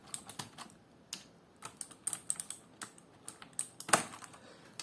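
Plastic keycaps clicking and popping off a Razer BlackWidow mechanical keyboard as a card pries them loose, a series of sharp, close, irregular clacks with one louder snap near the end.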